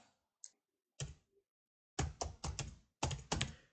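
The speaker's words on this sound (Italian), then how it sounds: "adesso qua eh, digitiamo la scritta" Typing on a computer keyboard, sparse single key taps followed by quick clusters of clicks, close and fairly quiet with silent gaps between bursts.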